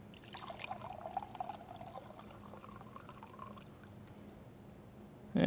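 Vinegar poured into a measuring cup, a thin trickling stream that rises and fades over several seconds before a louder clunk at the end.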